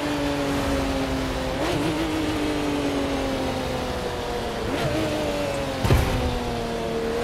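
A Porsche 911 Speedster (991) engine in The Crew 2 racing game drones steadily at high revs, with a few brief gear-shift dips in pitch and a short bump near the end, no talking.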